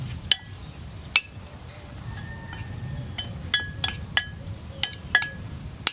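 Squid stuffing with capers and olive oil is stirred in a bowl for Sicilian stuffed squid, giving sharp scattered clinks of utensil on dish over a low, soft background rumble.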